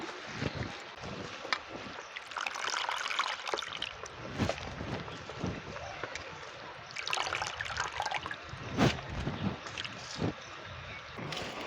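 Chopped leafy greens being washed in water, with splashing and trickling swishes that come and go in irregular bursts, fairly close, with no voices.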